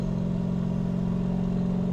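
A 1300-horsepower turbocharged Corvette engine with a TH400 transmission runs at half throttle, a steady loud drone with a strong low hum and no talk over it.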